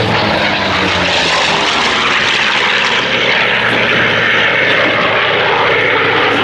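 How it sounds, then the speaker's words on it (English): A Corsair fighter with a Wasp radial engine taxiing past at an air show, its loud, continuous propeller and radial engine drone dominating throughout at close range. "Brian Smith there taxiing past us in the Corsair on completion of his display"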